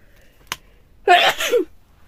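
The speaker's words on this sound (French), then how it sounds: "j'ai envie d'éternuer" A single sharp sneeze, preceded by a quick intake of breath, close and loud against a quiet background.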